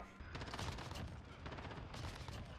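Shotgun fire from the R90 in the video game Modern Warfare, a quiet series of rapid blasts and clattering impacts from a busy match, heard faintly.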